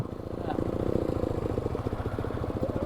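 A motorcycle engine idling and revving on the sand of Cox's Bazar beach, a close, steady rhythmic chug under a faint breezy background.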